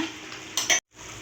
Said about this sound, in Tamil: கொஞ்சமாக கரண்டி அடியில் விட்டு கிளறி விடுங்க